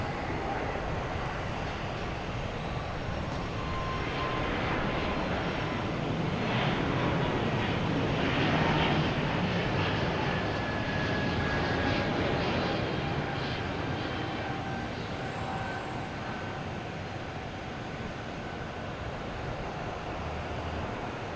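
A JetBlue Airbus A220 jet at Boston Logan Airport produces a broad, steady engine roar that swells toward the middle and then slowly eases, heard from a distance with no talking.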